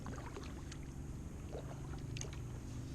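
Kayak paddle dipping and splashing in calm water on a morning outing, soft and low with gentle wet strokes over a steady background, no voices.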